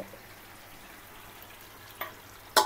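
Potato bhaji fries in oil with a soft, steady sizzle close by, broken by two brief utensil knocks near the end and no talking.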